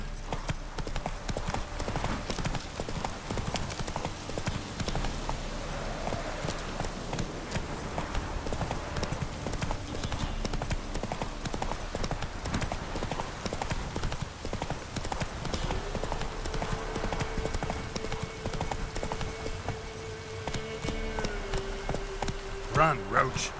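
Roach the horse galloping in The Witcher 3, rapid continuous hoofbeats under rain-like hiss and game ambience, with a sustained tone rising near the end.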